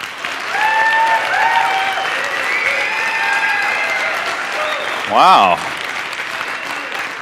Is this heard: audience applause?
yes